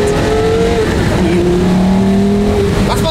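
A Porsche Carrera GT accelerates hard, its engine note loud and close, climbing and shifting pitch in sustained revving sweeps with a faint squeal near the end.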